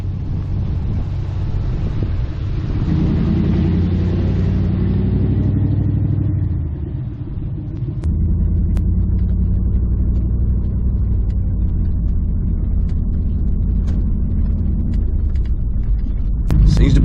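A pickup truck engine idles and rumbles, then pulls away and drives steadily up and down a driveway, its low motor drone continuous with a few light clicks and knocks.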